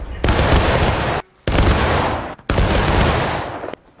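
Musket volleys fire in War of Rights, three heavy bursts of massed gunfire, each about a second long and separated by short gaps, loud and close.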